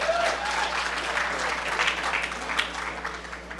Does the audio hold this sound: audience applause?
yes